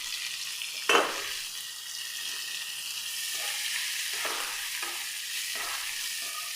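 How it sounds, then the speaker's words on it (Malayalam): Three onions frying with salt in a pan give a steady close sizzle that runs throughout, opening with one sharp clack of a spoon and then soft scraping strokes as they are stirred, with no voices. "നമ്മുടെ ഉള്ളി പെട്ടെന്നൊന്ന് വഴണ്ട് കിട്ടണം."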